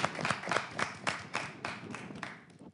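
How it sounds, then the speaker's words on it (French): Small audience clapping at a live French show, about eight sharp rhythmic claps from a few hands close by, fading out toward the end. "On l'applaudit."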